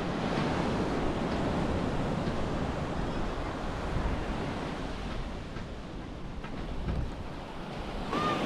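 Sea waves wash onto Quinawan Beach in Bagac, Bataan, a steady rushing surf with swelling and easing rolls, mixed with gusts of wind buffeting the microphone.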